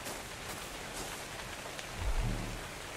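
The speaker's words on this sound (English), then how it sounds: "Oh, it's raining." Rain falls steadily in Ark: Survival Evolved, a broad constant hiss of drops with a brief low rumble swelling near the end.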